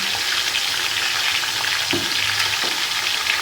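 Green chilies, including long talwari chilies, frying with garlic and ginger in oil for camel meat nihari, a steady close sizzle throughout with a couple of brief stirring scrapes.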